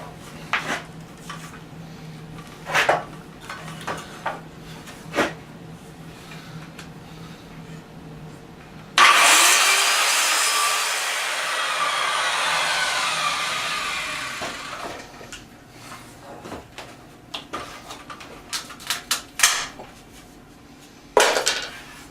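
A saw cuts a wooden 2x4 top plate around a bow in a framed wall, one loud burst of sawing lasting several seconds between scattered knocks and handling clatter.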